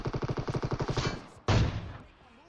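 Automatic gunfire in the PUBG Mobile video game: a rapid, steady burst of shots, then a single loud blast that fades into a lingering rumble.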